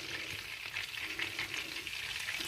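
Butter melts in a pan with dried mint for yogurt soup, giving a soft, steady sizzle and crackle, faint and close, with light stirring and no talking.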